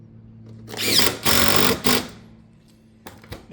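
A power drill drives fasteners down through shake batten caps on a roof; a buzzing motor whine runs in three bursts in the first two seconds, then short quieter taps near the end.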